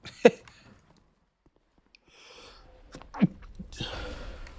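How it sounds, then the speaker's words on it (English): A single sharp human sneeze bursts out close and loud, followed by quiet, some faint rustling, and a second smaller sneezy burst with breath after it. "I sneezed"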